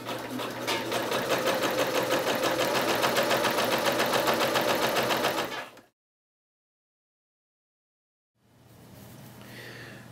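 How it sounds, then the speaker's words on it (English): A sewing machine stitches the cross seam of trousers in a loud, fast, even mechanical whir, stops abruptly into silence, then starts again more quietly. "So what we're going to do now is pin this and then sew it."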